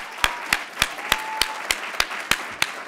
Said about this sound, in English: Just a quick round of applause for all of our participants.